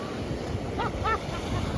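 Cold ocean waves wash in at a beach, a soft, windy surf rumble with faint wind buffeting the microphone and a couple of brief higher splashes or calls, heard close.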